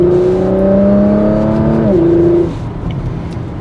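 A Porsche Macan GTS with a PDK gearbox drives with a loud, smooth engine note that climbs, then drops sharply at an upshift and settles to a quieter cruising hum.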